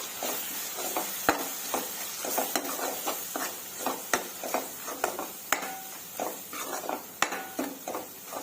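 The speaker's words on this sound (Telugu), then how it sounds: "అలా కలిపేసుకుని 1 నిమిషం బాగా ఫ్రై చేసుకుందాము." Spices, chili powder, turmeric and salt stirred and fried in a pan for chole masala curry, with steady scraping of a spoon against the pan over a soft sizzle and repeated sharp clinks of metal, no talking.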